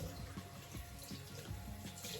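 Warm water runs steadily from a bathroom tap, a continuous splashing hiss with small irregular spatters, close and fairly loud with no voices.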